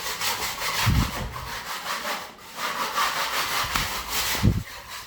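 A power cutter saws through putty, a rough, grinding rasp that swells and fades in repeated strokes with brief scraping pauses between, fairly close and without talk.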